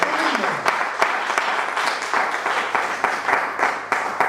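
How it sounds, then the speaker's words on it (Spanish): A church congregation applauds the Lord during a Spanish-language sermon, dense steady clapping from many hands filling the room with sharp individual claps poking through, with faint voices underneath. "Yo le daría un aplauso al Señor"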